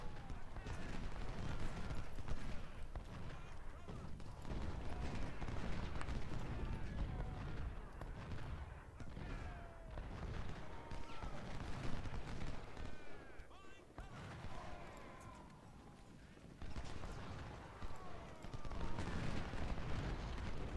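Cannon and musket volleys in the Civil War strategy game Ultimate General: Civil War, a dense sustained battle din of booming artillery and crackling gunfire rolling on without pause, with someone talking over it.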